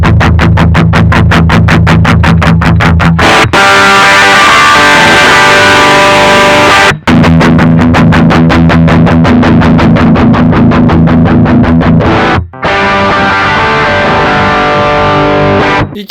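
Electric guitar through a VOX Valvenergy Copperhead Drive tube preamp pedal with the treble turned up, loud distorted chugging riffs broken by two short pauses.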